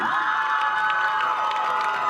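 A crowd cheers and whoops for the homecoming queen at a 2020 high school football game, with a continuous loud swell of shouting voices and high-pitched cries.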